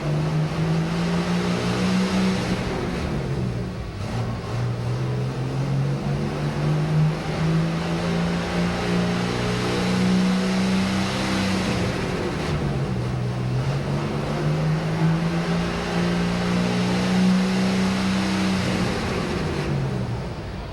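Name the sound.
John Deere pro stock pulling tractor engine roaring during a pull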